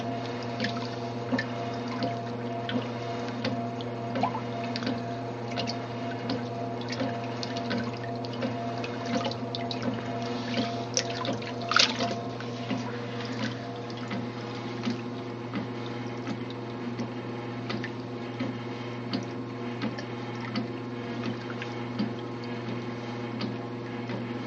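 A Maytag A50 twin-tub washing machine agitates water and laundry, including a red cloth, with a steady low mechanical hum and continuous sloshing churn, plus occasional splashes and clicks throughout.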